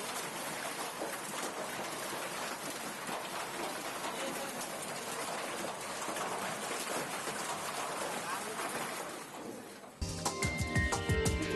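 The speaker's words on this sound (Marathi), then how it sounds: "गारपिटीसह कशा प्रकारे पावसाने थोडकून काढलेला आहे" Steady, dense rain mixed with hail pours down hard, a continuous hiss of drops hitting surfaces up close, with a brief shift in sound at the very end. Summer hailstorm in Nanded, India.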